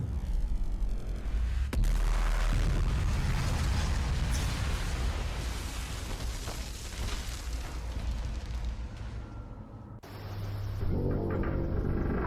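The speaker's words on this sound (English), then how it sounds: "There's a lot of explosions." Heavy, continuous explosion effects in an animated skibidi wars battle: rumbling blasts and booms pile on one another for about ten seconds, then cut to a quieter, thinner rumble, with no talking.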